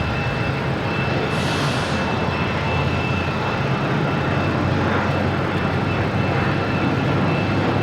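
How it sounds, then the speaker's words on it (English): An American Airlines Airbus A319 airliner takes off at Boston Logan International Airport, its engine roar sustained and loud across the scene with a steady broadband rush and whine, without speech. "Next taking off is American Airlines."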